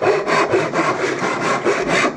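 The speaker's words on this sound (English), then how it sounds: "And I'm going to do that with this old back saw." An old back saw cuts into wood for an axe-handle stool, about eight quick rhythmic push-pull strokes rasping close and loud, steady and unbroken.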